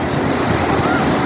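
Sea waves surging at Ganpatipule beach at sunset, a steady broadband wash of surf with wind rumbling over the microphone, continuous and fairly loud, no voices.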